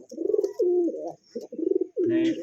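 Kashmiri Lotan pigeons coo close by in a short run of three or four throaty, rolling calls separated by brief pauses.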